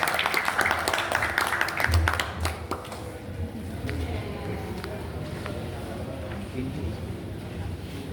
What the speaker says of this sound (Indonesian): Kita beri tepuk tangan yang meriah untuk penampilan peserta SI 103